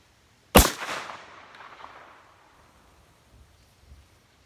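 A single Remington 12 gauge shotgun slug fired outdoors: one sharp, loud blast followed by a rolling echo that fades over about two seconds, then faint low thumps.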